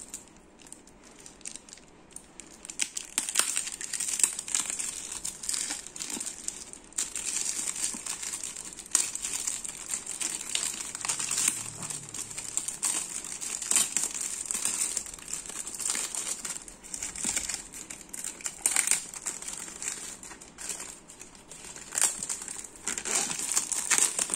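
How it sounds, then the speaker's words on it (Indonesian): Outer plastic wrap on a Moza Mini S gimbal box being opened, close crinkling and crackling that runs nearly continuously with irregular bursts and brief pauses. "Masih ada plastiknya nih. Plastik luar ya. Sengaja kita buka ya."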